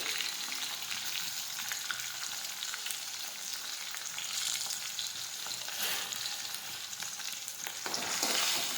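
Chopped tomato and ginger sauté in a pan of oil, giving a soft, continuous sizzle with faint stirring scrapes, fairly quiet and unbroken, with no voices.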